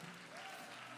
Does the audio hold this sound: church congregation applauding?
yes